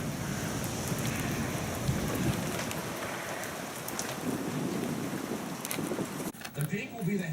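Steady heavy rain pours during a tornado-producing thunderstorm near Oklahoma City and Moore, a dense close hiss with brief low rumbles, and a person talks faintly beneath it.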